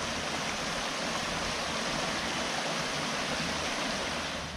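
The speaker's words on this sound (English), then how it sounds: "And just listen to this pretty creek." A mountain creek in North Georgia flows steadily as a close, even, broadband rush of water with no talking.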